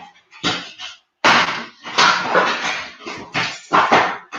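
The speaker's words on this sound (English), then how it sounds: "That noise you're hearing is Vinny got a hold of a box and he's trying to get me to play with him" A dog grabbing and tearing at a cardboard box in play, with bursts of crinkling, rustling and scraping cardboard noise that come in uneven bursts close by, without talk.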